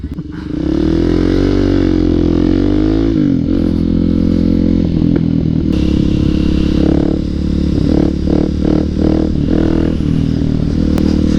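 Motorcycles, including a Honda CBR 954, race on the street with a loud, close engine roar that rises and falls through repeated revs and gear changes, with no talk.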